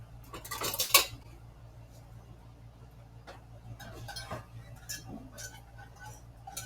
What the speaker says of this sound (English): And then we're whisking the pineapple juice and the cornstarch together.